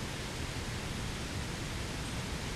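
Roaring water at Rumbling Bridge, a steady broadband rush of falling water that fills the whole recording at a moderate level, constant without breaks and with no voices over it.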